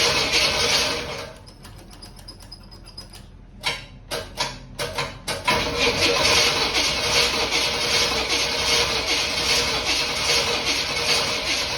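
A 1938 Pontiac engine cranks over in several short, uneven bursts, then catches and settles into a loud, steady idle close by.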